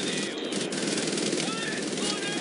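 Sustained automatic fire from a machine gun in the video game Wolfenstein: The New Order, a dense unbroken rattle of shots that stays loud and close for the whole moment, with no voice over it.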